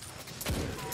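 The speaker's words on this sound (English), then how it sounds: "a submachine gun." Submachine gun fire in Destiny 2 comes as two short, sharp bursts close up, the second arriving near the end of the second.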